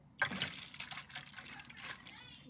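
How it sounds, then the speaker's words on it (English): Cold milk poured into a pan of melted butter for mashed potatoes, a soft liquid splash and trickle beginning with a brief burst, then a steady quiet flow, close by. "grab your cold cup of milk and then pour it into it."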